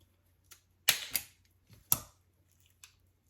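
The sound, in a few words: scissors cutting through Aerogarden starter roots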